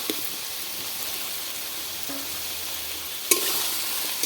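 Fried potatoes are stirred into a pot of simmering gravy for aloo dum, giving a continuous soft bubbling sizzle with a faint scrape of the spoon and a sharper clink near the end, no voices.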